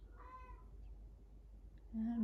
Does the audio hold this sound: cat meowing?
yes